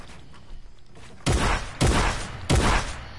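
Three loud, sharp gunshot bursts in a video game, spaced about half a second apart and each ringing out briefly, following a quieter stretch of low game ambience.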